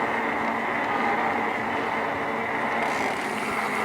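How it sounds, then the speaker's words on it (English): A train passing through Carrum station on a busy suburban line along the beach, a steady loud rumble and roar throughout with no speech. "Oh, here comes a train now."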